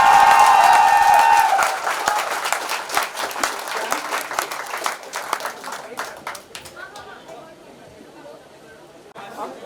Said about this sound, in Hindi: जोरदार ताली बजा रहे हैं, पहली बार स्टेज पे आए हैं।